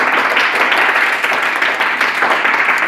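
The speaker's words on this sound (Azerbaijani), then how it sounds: "Bəli, Ruslan qalib gəldi, alqışlar." Classroom applause for a geography quiz winner: a dense, steady burst of many hands clapping together, loud and close, lasting the whole short stretch with no pauses.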